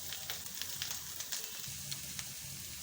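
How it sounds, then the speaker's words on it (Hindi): Potato filling for mirch pakora sautéing in a pan, a soft steady sizzle with faint crackles and occasional stirring scrapes close by, quiet with no talk. "आलू को ना हम तकरीबन इसको बस कुछ सेकंडों के लिए सौते करेंगे"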